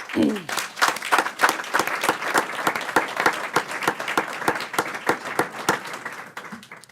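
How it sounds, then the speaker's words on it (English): Sustained applause from the audience at a Pico Rivera city council meeting, a dense, steady clapping that carries throughout and fades slightly toward the end, with no one speaking over it. "So let's do a big round of applause for you, Pico Rivera"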